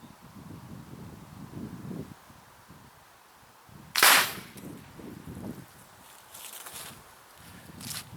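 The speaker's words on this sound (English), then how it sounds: "we'll shoot a couple of these reactive targets" A springer air rifle fires at a reactive target on an outdoor range, producing one sharp, loud crack midway through, set against wind and rustling background noise.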